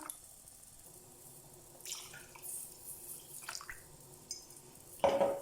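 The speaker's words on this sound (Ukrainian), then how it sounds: "Заливаємо гарячою водою, щоб швидше приготувалося." Hot water pours and splashes into a pot of millet for kulish in a few short bursts, with a light clink near the end, fairly quiet and without talking.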